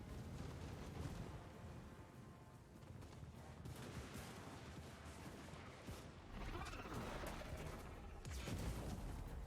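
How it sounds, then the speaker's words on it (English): Distant volleys of gunfire from a Total War: Warhammer 2 battle, heard faintly as scattered bursts over a low, rumbling battlefield din, with a louder cluster near the end. "Good old-fashioned gunfire."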